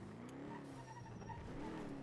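A car skids in the GTA NoPixel video game. Tires squeal with a rising and falling whine over a steady engine rumble, all at moderate distance.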